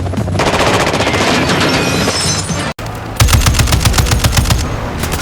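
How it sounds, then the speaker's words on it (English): Video game machine gun fire bursts in rapid, loud clattering volleys, a brief cut, then harder sharp repeating shots, close and dominant with no speech over them. "Taking effective fire."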